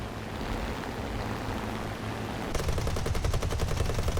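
In a flight video game, a Spitfire Mk IIb's machine guns open up in a quick, evenly spaced rattle of rapid shots over a constant engine and wind rush; the burst starts partway through and is not loud.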